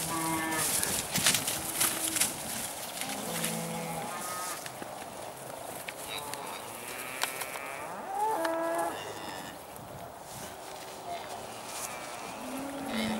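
Several young calves moo repeatedly as they are let out in spring, their long low calls overlapping amid a noisy farmyard background with some bleating-like calls mixed in.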